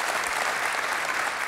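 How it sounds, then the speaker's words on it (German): Loud, dense clapping from a TV studio audience at a comedy show, a continuous burst of applause heard alone. "Applaus?"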